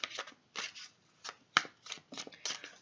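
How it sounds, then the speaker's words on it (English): Tarot cards being shuffled by hand in several quick riffling bursts separated by short pauses, close and fairly quiet, with no talking. "I do always pre-shuffle my cards."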